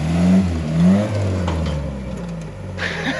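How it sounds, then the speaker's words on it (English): The diesel engine of a Toyota rock crawler labours in a low, lumpy rumble during a push start, surging twice and then sagging and dying away toward a stall, close and fairly loud. "diesels are such high compression motors, it doesn't pop very easily. It just stops me dead."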